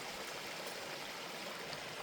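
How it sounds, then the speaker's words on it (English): A small waterfall cascades into a swimming hole along a hiking trail, a steady wash of rushing water that stays constant and fairly close throughout. "you can see a little waterfall with the water cascading down"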